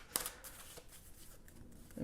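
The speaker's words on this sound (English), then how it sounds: "I just keep wanting to shuffle." Quick riffling shuffle of tarot cards, a sharp burst at the start followed by softer sliding and tapping, close by and fairly quiet.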